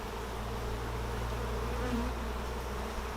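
Honeybees buzz steadily in an open hive during a swarm-control inspection, a close, continuous droning hum with no break and no talking.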